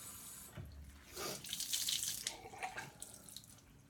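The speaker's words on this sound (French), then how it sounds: "Donc, je rince ma petite serviette." A small towel is rinsed under a running bathroom tap: a close, splashing rush of water that swells and shifts as the cloth is worked under the stream, with no speech.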